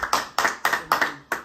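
Rhythmic, fairly close hand clapping for a Galatasaray footballer during a Galatasaray vs Sivasspor match, about five evenly spaced claps on a steady beat with no talk over it.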